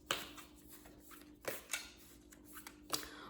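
Oracle cards are shuffled by hand in a quiet room, several soft flapping riffles and slides spaced across a few seconds over a faint background hum.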